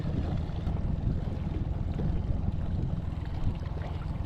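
An outboard boat motor runs on Truman Lake during catfish jugging, a steady low droning hum with water and wind noise, continuous and fairly close throughout.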